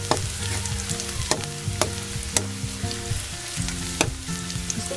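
Garlic cloves sautéing in a pan for an okra omelette, a continuous nearby sizzle punctuated by sharp utensil clicks and stirring taps, with no voices.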